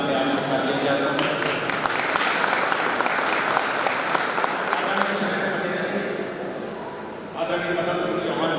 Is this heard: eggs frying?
no